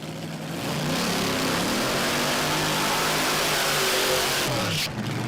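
A drag racing car at Willowbank Raceway throbs with a loud, close, steady engine rumble for several seconds before it drops off abruptly near the end, with faint voices underneath.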